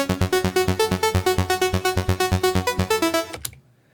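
A Future Rave synth arpeggio gallops in short, evenly repeated pluck-like notes over a rolling octave-down bass line, loud and steady for about three seconds before cutting off into a brief fading tail.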